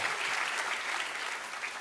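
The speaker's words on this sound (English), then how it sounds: "Let's give her another round of applause." Brief burst of audience applause at a medical school white coat ceremony, a dense wash of clapping from a seated crowd, fairly distant and steady throughout.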